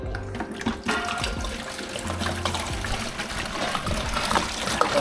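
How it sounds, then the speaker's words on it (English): Water pours from a heavy 5-gallon bucket into a 32-gallon BioCube saltwater aquarium, a continuous gushing and trickling stream at close range with no talk. "I'm adding a 5 gallon of water."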